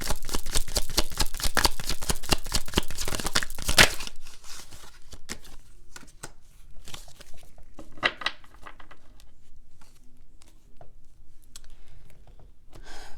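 Tarot cards are shuffled in a rapid, crisp riffle of flapping snaps, then give way to softer, scattered clicks and slides as cards are drawn and laid down close by.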